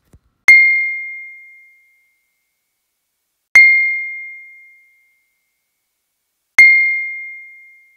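A single piano note with false beats, picked up by a sensor, is struck three times about three seconds apart. Each strike gives a bright, clean tone that fades over roughly a second and a half into silence.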